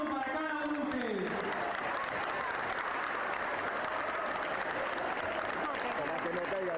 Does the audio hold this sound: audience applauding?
yes